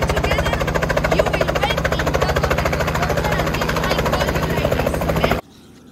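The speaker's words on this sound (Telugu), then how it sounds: "అతి చవకైన హెలికాప్టర్ చాలా బాగుంటుంది" A budget tourist helicopter near Ushuaia, Tierra del Fuego, roars close by with a fast pulsing rotor beat and engine whine, loud and steady until it cuts off abruptly near the end.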